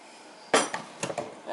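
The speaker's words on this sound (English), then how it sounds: "I actually used 2 spoons to get it out because it is thick." Two spoons scrape and clink against a mixing bowl while thick pear and peach cobbler batter is scooped out, a handful of close metallic taps over a quiet kitchen background.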